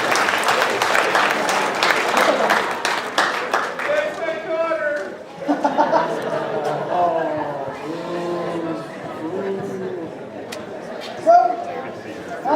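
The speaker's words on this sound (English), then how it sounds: "Let's give her a big round of applause." Audience applause for a young girl named Aliana at a chemistry demonstration night, brisk clapping for the first few seconds that fades into crowd chatter and talking voices.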